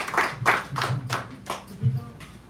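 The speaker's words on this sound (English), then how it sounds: "Give him a round of applause as he comes up here" Scattered clapping at a poetry hour in a San Francisco café, with irregular claps from a small audience mixed with voices talking over them.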